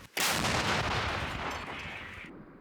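A single loud 152mm artillery blast close by on the Kherson front, with a sharp crack that decays into a long roaring rumble before cutting off.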